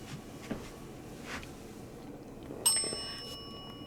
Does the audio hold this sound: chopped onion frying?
no